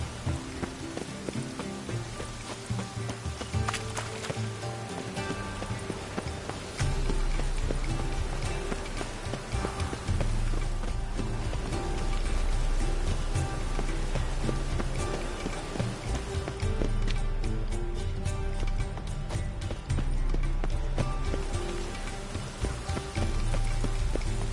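Steady rain falling in The Witcher 3: Wild Hunt on PS4, a continuous hiss of drops on surfaces with hoofbeat-like clopping mixed in, constant and moderately loud.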